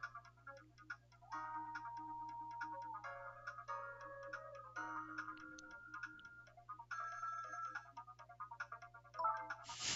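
A phone rings in the video game Ghost Trick: Phantom Detective as a string of electronic beeping tones over a steady low hum and game music, running continuously with short pauses.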